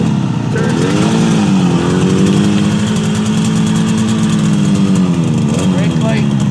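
A 1972 Yamaha YDS7 250 motorcycle engine idles steadily with a low, even rumble and a slight rev near the end.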